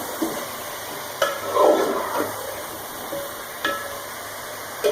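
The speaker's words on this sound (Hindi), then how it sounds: "लहसुन अदरक के साथ सौते करने के बाद मैंने इसमें ऐड कर दिए टमाटर। टमाटरों के साथ पकाऊंगी थोड़ा सा।" Tomatoes sautéing with garlic and ginger in a pan for chicken biryani, a soft steady sizzle with a few stirring scrapes and small bumps, close and alone.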